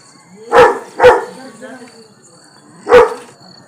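A puppy gives three sharp, high barks, two in quick succession and then one more after a pause, close by in a quiet setting near goats and sheep.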